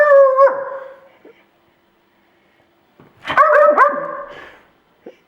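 A dog lets out two loud, drawn-out howling barks separated by a quiet pause, with a few faint clicks between them.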